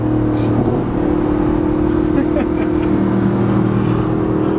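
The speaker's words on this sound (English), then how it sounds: "There's nothing like the sound of a V8 AMG." A straight-piped Mercedes SLS AMG V8 runs with a steady, loud, close-up drone and a constant low rumble, no sharp revs breaking through.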